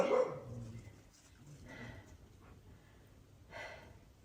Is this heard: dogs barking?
yes